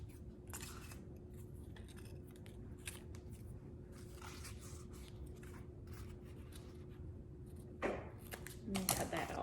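Slices of faux pumpkin pie are cut with a series of crisp, scratchy strokes, quiet and close, with a denser burst of cutting near the end.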